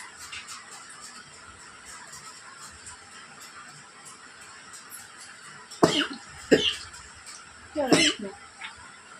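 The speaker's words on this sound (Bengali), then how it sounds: "কাশি হচ্ছে।" Several close, harsh coughs burst out in quick succession from someone eating mango and sipping hot milk indoors. They follow a stretch of quiet room tone with soft background murmurs.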